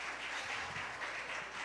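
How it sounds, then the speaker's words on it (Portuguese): A church congregation at a deliverance service applauds together, a dense, even roar of many hands clapping that holds steady without a break. "Vamos aplaudir o Rei Jesus pela vida de Jonatas."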